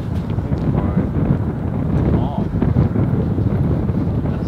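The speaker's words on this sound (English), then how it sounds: "The wind is blowing pretty good." Wind buffets the microphone on a golf course, a dense low rumble and roar that stays strong throughout, with someone talking over it.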